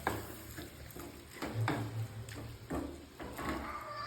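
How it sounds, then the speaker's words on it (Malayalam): Clam meat frying for a curry is stirred in a pan, with repeated close scraping strokes roughly every half second over a soft sizzle and no one talking. "മൊത്തത്തിൽ ഇട്ട് കൊടുക്കാം എന്നിട്ട് നന്നായിട്ട് ഫ്രൈ ചെയ്ത് കൊടുക്കുക നന്നായിട്ട് ഇളക്കി കൊടുക്കാം"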